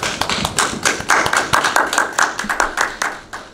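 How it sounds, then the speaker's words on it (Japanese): A small audience at a post-race press conference for round 10 of the 2022 Super Formula Lights championship claps for three drivers, a steady, close round of many hands lasting a few seconds with no voices over it. "まずは3選手に拍手をお願いします。"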